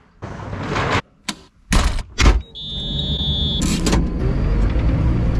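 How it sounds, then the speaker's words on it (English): A farm vehicle's door, with a Fendt tractor working with a hedge cutter, shuts among several sharp thumps and clunks over a running engine, followed by a thin whine and a steady low rumble. "Shutting the door here."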